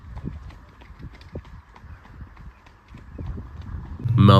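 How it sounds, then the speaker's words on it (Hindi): A mare walking, her hooves clip-clopping in an irregular, moderately close rhythm on hard ground, with a louder rustle at the end. "घोड़ी को एक जगह खड़ा ना रख के उसे थोड़ा थोड़ा चलाना चाहिए"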